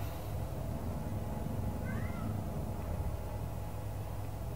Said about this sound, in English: I don't know if anybody just heard my cat